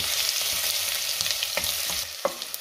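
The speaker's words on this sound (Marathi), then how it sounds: "आता 1 मिनिटभर मी ही पेस्ट चांगली परतून घेते।" Ginger garlic paste sautés in a pan with mustard and cumin seeds for Maharashtrian bhogichi khichadi, giving a steady dense sizzle with a few soft stirring scrapes and no voices.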